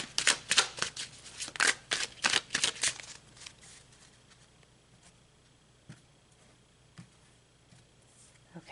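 Tarot cards are shuffled by hand in a quick run of crisp riffling snaps that fades into a few soft isolated taps and card handling, close and without talk.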